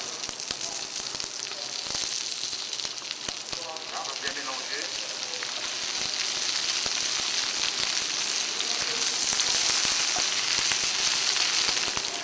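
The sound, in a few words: bamboo shoots sautéing in oil in a pan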